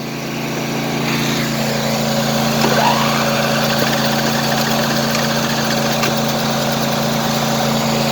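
A pressure washer's small gasoline engine, choked with a bit of throttle, catches and runs at a steady idle, a continuous loud mechanical drone with vibration throughout, no talking.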